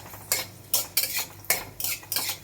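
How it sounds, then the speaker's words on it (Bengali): A spoon scrapes and clinks against a pan as black cumin and dried chilli tempering is stirred, five or six sharp metallic strokes in an uneven rhythm over a faint quiet sizzle, close and alone. "এবার কালো জিরেটা ফোড়ন দিয়ে দিলাম, শুকনো লঙ্কাটা দিয়ে দিলাম ফোড়নে।"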